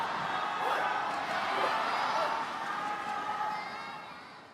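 Crowd noise swells and roars steadily throughout at an Asian Badminton Championship final, fans urging on Liang and Wang during a men's doubles game, a broad sustained cheer that eases slightly near the end.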